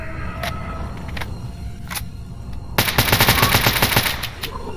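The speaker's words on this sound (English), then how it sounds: "I guess I'll have to use the AK." Rapid bursts of AK rifle gunfire in S.T.A.L.K.E.R. Anomaly, a Chernobyl power plant raid, starting with a few isolated shots and then a dense, loud sustained volley, with no talking.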